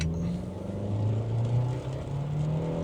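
A 2025 Mitsubishi Outlander with all-wheel drive launches hard from a standstill, its engine note rising and straining steadily from inside the cabin, moderately loud with a brief dip as it shifts.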